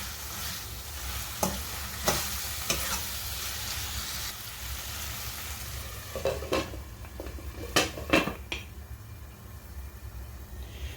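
Ginger garlic paste stirred in a pan while cooking a Mughlai egg curry, with a constant low sizzle and a handful of distinct metal spoon scrapes and clinks, clustered toward the latter half.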